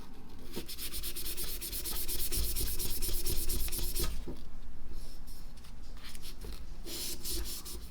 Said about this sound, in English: We'll try some 2000 grit sandpaper.